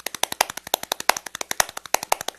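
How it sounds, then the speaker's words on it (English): Two hands clap out the fast, driving rhythm of the Surfaris' surf instrumental "Wipeout", giving a close, crisp run of about twenty claps in an uneven, syncopated pattern with nothing else heard. "technically that was the sound of two hands clapping"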